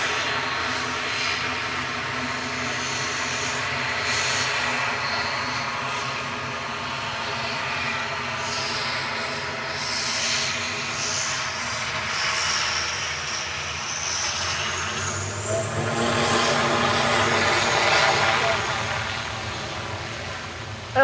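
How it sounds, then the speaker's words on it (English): An Aer Lingus Regional ATR 72-600 turboprop departs, its propeller engines a loud, sustained drone that swells and shifts in pitch as it powers up toward the end. "Aer Lingus Regionals EI-FSL departing back to Dublin now with flight 3323 ATR 72-600"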